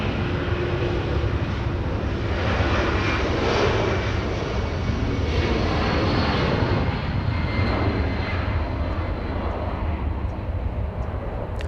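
A Delta Airlines Boeing 757 jet bound for Boston, at Los Angeles International Airport, gives a loud, steady engine roar that holds evenly for the whole stretch with no other sound over it.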